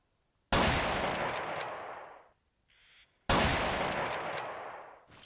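Two loud, close shotgun blasts in the Carnivores Triassic hunting game, each a sharp broadband crack with a long decaying tail, separated by about three seconds with a faint mechanical reload sound between them.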